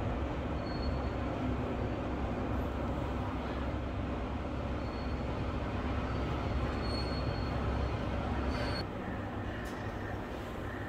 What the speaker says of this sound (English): The metro is coming.